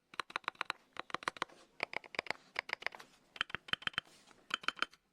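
Rapid bursts of clicky mechanical key presses, typed in quick clusters with short pauses between them, crisp and close.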